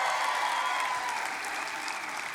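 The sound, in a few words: audience clapping and cheering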